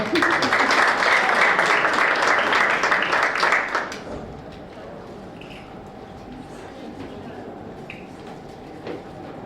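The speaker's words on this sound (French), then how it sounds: "Elle mérite vos applaudissements, non?" Audience applause at an MT180s science talk event, a loud dense burst of clapping that fades out after about four seconds, leaving quiet room tone with a few faint sounds.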